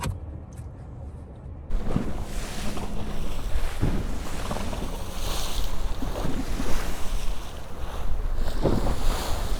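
Ocean waves break on the beach at Corpus Christi, a steady loud wash of surf mixed with heavy wind buffeting close to the microphone after a short quieter opening.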